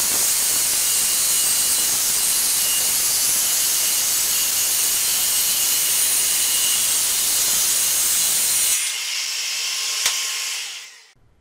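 A power saw cuts through a wooden mirror frame in one long, steady, loud hissing whine, then stops abruptly.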